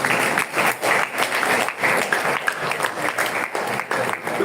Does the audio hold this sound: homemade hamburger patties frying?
no